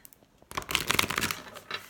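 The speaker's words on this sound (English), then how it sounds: "Let me go ahead and do a quick little extra shuffle here" Tarot cards shuffled by hand, with a quiet half-second before a dense run of crisp riffling and flicking that carries on steadily to the end, close and fairly loud, no voices.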